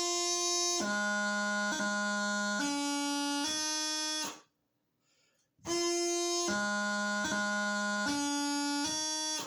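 Reedy bagpipe chanter plays a slow D throw, a repeated figure of short grace notes and held tones over a drone, pausing briefly before repeating the phrase.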